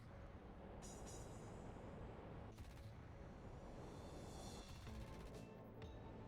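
A Tornado GR.1 strike jet in a combat flight game fires air-to-ground weapons: several faint, distant blasts and rattling bursts land a second or two apart over a steady low engine rumble.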